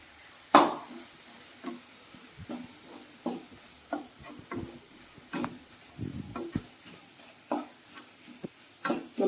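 Samosa stuffing with chilli powder, garam masala and coriander powder being stirred and fried in a pan: repeated scraping and clinking of a spoon against the pan over a soft sizzle, close and moderately loud, without voices.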